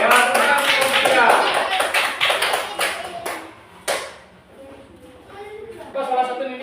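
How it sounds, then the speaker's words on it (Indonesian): An Indonesian primary class applauds a student group, a dense burst of many hands clapping close by that fades out over a few seconds, followed by a teacher and children talking. "Tepuk tangan kelompok 3."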